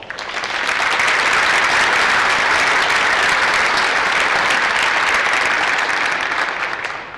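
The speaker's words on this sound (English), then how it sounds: "please give a round of applause" A large audience at a utility's annual meeting claps steadily, swelling in over the first second, holding a dense even roar of applause, then tapering slightly at the end.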